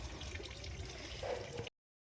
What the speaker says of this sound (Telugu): ఇదిగోండి, నీళ్ళు కూడా స్టార్ట్ అయిపోయినాయి